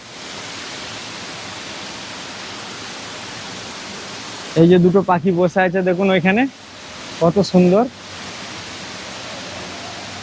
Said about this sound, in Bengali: এই যে ঝর্ণা একটা পড়ছে খুব সুন্দর